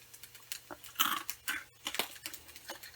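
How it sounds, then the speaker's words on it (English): Crunchy bites and chewing of a dry, salty, ocean-flavored crispy rice snack, close and crisp, with irregular crackling crunches repeating over a few seconds. "I can chew on it, or I can just keep it in my mouth."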